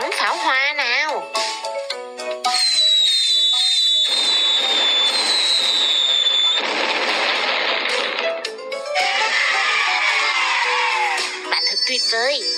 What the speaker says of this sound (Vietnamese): Hãy bắn pháo hoa nào